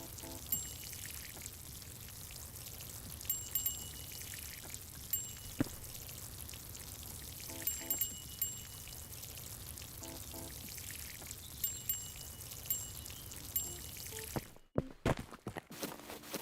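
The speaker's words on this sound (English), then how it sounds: "You just hear this water going." Steady water pouring and splashing in Plant Nursery Simulator, a continuous running stream with faint intermittent clicks and drips, playing alone without talk until an abrupt cut near the end.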